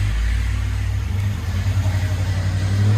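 A cammed 6.0L V8 in a Chevy work van with true dual exhaust idles with a deep, loping rumble, swelling slightly as it is blipped, steady and close.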